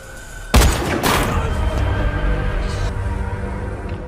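Gunfire in a sniper action film: two sharp, loud blasts close together, then a heavy rumbling wash that slowly fades, with no talking over it.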